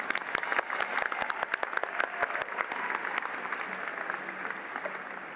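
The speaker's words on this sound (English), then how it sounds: "Please, big round of applause." Applause from the audience at a university commencement ceremony as psychology graduates are recognized, with distinct sharp claps up front over a broad crowd wash that gradually settles and thins out.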